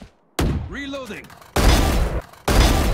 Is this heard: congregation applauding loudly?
no